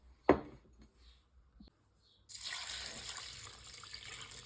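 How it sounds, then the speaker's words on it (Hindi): Water runs steadily into a small cooking pan already holding fennel seeds, black pepper, star anise and salt, for a chicken korma; a sharp clink comes first, then the flow starts and continues, fairly close, with no talk. "और इसमें डाल देना है 4 से 5 कप पानी"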